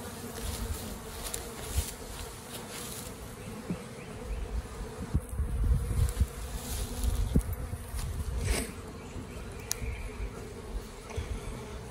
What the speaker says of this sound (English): So it looks like these bees are about to swarm.